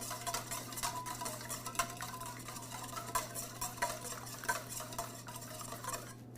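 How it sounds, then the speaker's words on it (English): An egg being whisked in a large mixing bowl, with a steady run of light scraping and tapping strokes against the bowl's bottom over a low constant hum. "just get your egg, put it in a large mixing bowl, and before you add the other ingredients, you're just going to whisk that"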